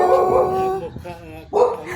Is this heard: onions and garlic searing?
no